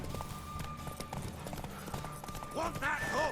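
Hooves clip-clop rhythmically as a horse gallops during a race in The Witcher 3, with game music and effects mixed in and people talking over it, the pace rising toward the end.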